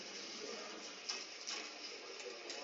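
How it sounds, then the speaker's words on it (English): Steady office background noise, a constant airy hum with faint mechanical clicks and shuffles, no clear voices. "what you're hearing right now is office ambient noise"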